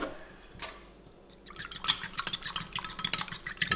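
Rapid clinking whisk strokes beating two eggs with a dash of milk in a bowl, quiet at first then a steady brisk rhythm, close and alone.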